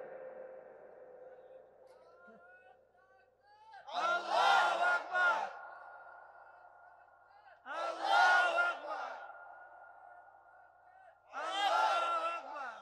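A large crowd at a religious gathering in Jhenaidah roars the takbir in three loud, swelling bursts a few seconds apart, with a sustained tone ringing between the shouts.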